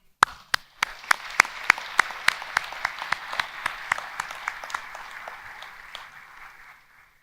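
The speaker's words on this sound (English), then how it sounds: "I think we should give them another round of applause." Applause from a graduation audience for the graduates' supporters, starting with a few sharp, loud individual claps that quickly fill out into steady crowd clapping, then slowly thinning and fading.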